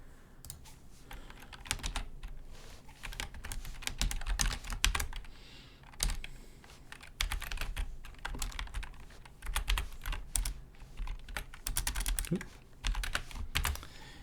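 Typing on a computer keyboard into Notepad, close and clear, with bursts of rapid key clicks separated by short pauses and no voices.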